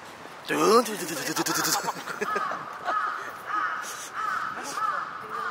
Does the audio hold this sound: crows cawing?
yes